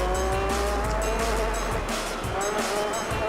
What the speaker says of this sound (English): Hearing a car's engine for a couple hours is not exactly the most